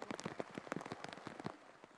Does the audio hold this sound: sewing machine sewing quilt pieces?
no